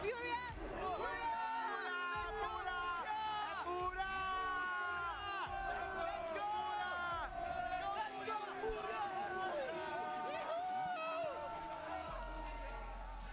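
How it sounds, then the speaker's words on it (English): Esports crowd at a Counter-Strike semifinal match in Rio, FURIA versus Heroic: a dense roar of many voices cheering and chanting, sustained and loud throughout the arena. "the crowd is going wild"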